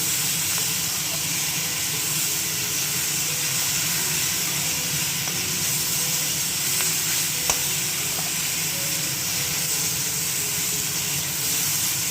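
Winter vegetables, including beans, frying in a pan in a home kitchen. A dense, steady sizzle and hiss continues throughout at close range, with a faint stir clink near the middle and no speech.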